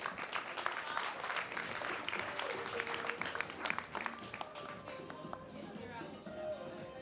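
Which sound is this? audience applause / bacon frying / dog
audience applause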